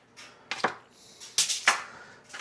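A knife cutting a slice of fish casserole cooked on a Kamado Joe grill, several close, crisp scraping cuts and clinks at irregular intervals, with no talk.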